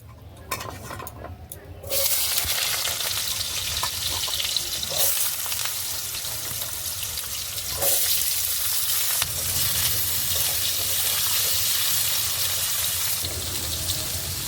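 Small diced potatoes dropped into hot oil in a wok, a loud frying hiss that bursts up at the start and keeps sizzling steadily, with stirring scrapes.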